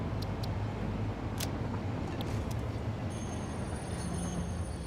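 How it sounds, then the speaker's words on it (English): A train rumbles along its track in the Satisfactory video game, a steady dense low rolling drone with faint high metallic squeals, loud and close throughout. "I am going to wait until this train starts to loop around here"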